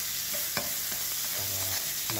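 Garlic sautés and browns in a pan for pancit canton guisado, a loud, steady close-up sizzle with a few light stirring clicks and scrapes.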